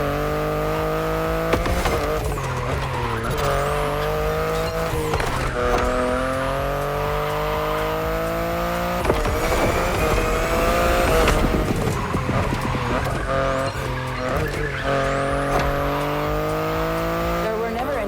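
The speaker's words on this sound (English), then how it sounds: "the sports car you're driving" A BMW i8 hybrid sports car in The Crew Motorfest revs and shifts through gears with rising engine whine and tire squeal, loud and continuous, while a voice talks over it.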